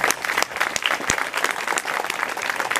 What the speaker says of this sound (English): Please support me in a big round of applause for their tireless efforts.